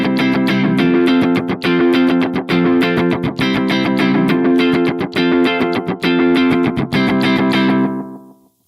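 Electric guitar played through a Donner Yellow Fall 2 reverb and delay pedal on its echo setting with fast repeats: loud, sustained chords with rapid echoing strums repeating throughout, then decaying into a fading tail at the end.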